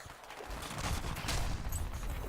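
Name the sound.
gunfire in a shooter video game, likely Battlefield 4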